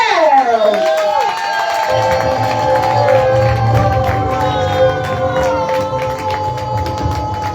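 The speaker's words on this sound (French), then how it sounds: "je vous demande d'applaudir bien fort Yann Domergue" A crowd at a community conference in Bois d'Inde applauds and cheers for Yann Domergue, loud and sustained, with voices shouting over the clapping and a sustained tone sliding in at the start.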